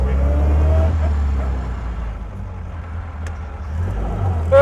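A pre-war car pulls away from a standstill after the clutch comes out, and its low engine rumble swells and then eases off over a few seconds.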